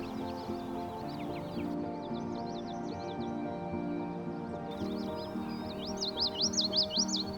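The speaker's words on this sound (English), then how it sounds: "the yellowthroat is in front of me here" A common yellowthroat calls in a grassland at sunrise, with repeated high chirping phrases standing out over a steady low hum, and a louder run of notes near the end.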